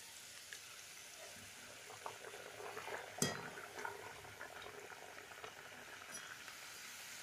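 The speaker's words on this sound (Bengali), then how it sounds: "এইভাবে একে একে আমি সবগুলো ভেজে নেব।" Green pea kachori fry in hot oil, giving a quiet, continuous sizzle with scattered crackles and one sharp clink partway through, and no voice.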